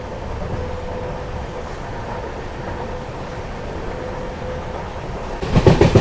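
An express train runs on rails toward Kallur Junction with a steady, continuous rumble and faint rhythmic clatter, swelling louder and harsher near the end.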